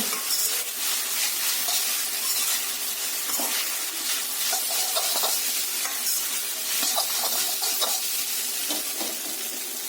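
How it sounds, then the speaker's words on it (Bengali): Fried chicken and fried egg are tossed with chowmein in a hot pan, street-food style: a continuous loud sizzle with busy stirring and scraping clatter, close by and without talk. "এবার আমি খুব ভালোভাবেই টস করে নেব।"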